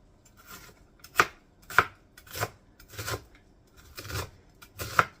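Onion being chopped with a knife on a cutting board, made for a sweet potato black bean soup: eight or so crisp, evenly spaced thwacks of the blade hitting the board, close and clear, with no talking.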